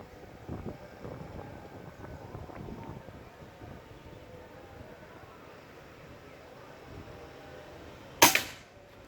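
A Bocap Pajero Gen 5 PCP air gun fires a single sharp crack near the end, after a quiet outdoor stretch of light wind and faint background sound.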